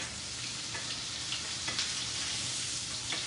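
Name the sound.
fish frying in butter, being turned in the pan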